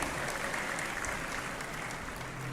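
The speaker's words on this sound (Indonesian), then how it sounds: "Tepuk tangan dulu" An audience applauds steadily at a talk in Klungkung, Bali, with dense, continuous clapping filling the space at moderate level and no voices over it.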